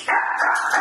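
A single sharp, high-pitched bark from a Chihuahua, close and loud, stretched into a short yappy burst lasting under a second.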